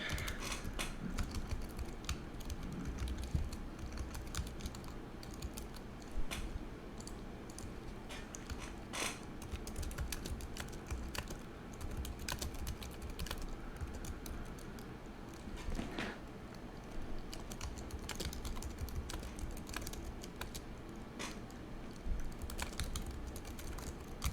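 Rapid, steady clatter of typing on a computer keyboard while playing Summoners War, with close, crisp key clicks running continuously over a low background hum and no talking.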